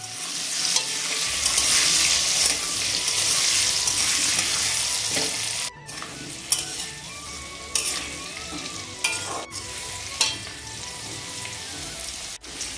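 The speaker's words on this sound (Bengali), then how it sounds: "আলুটা ভাজা হয়ে গেছে" Potato pieces frying in hot oil with salt and turmeric, a loud continuous sizzle that eases midway, with scattered clinks and scrapes of stirring, no voices.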